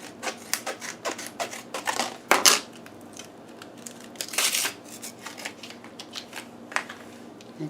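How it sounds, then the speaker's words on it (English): Scissors snip and crinkle through the plastic packaging of an SD card, giving a close, quiet run of irregular cuts and rustles with a few sharper crackles and no talk. "let's take a pair of scissors"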